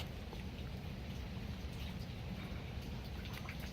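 Steady rain falling outdoors, a constant dense hiss with scattered drop patter, continuous and fairly soft throughout.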